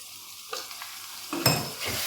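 Spiced chicken karahi being stirred after yogurt goes in, quiet scraping strokes followed by a louder burst of sizzling and stirring, close and without speech.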